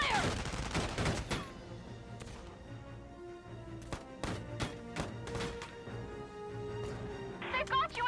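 Gunfire rattles through a war video game: bursts of sharp shots and thuds crack out irregularly, some close and loud, others lighter, over a low background of game ambience with voices speaking.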